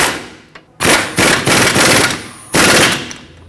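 Rapid mechanical ratcheting bursts from snugging a lower control arm mounting nut on a 2006-2010 Hyundai Sonata, several loud close chattering runs separated by short pauses, no talk.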